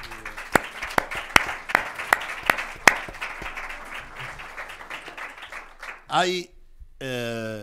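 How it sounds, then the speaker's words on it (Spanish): Audience applause opens with several sharp, distinct claps over a steady wash of clapping, then thins out before a voice speaks near the end. "pido un aplauso para él"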